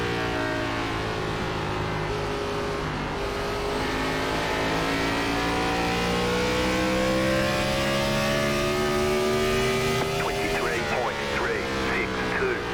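A NASCAR Gen 4 Cup car engine in the iRacing game laps Richmond Raceway, a loud continuous close-up drone whose pitch climbs steadily under throttle and then drops briefly near the end.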